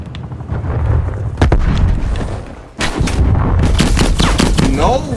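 Dense gunfire in a hardcore-mode first-person shooter game, with rapid loud shots and booming blasts layered almost continuously, a brief lull near the middle, then more heavy firing.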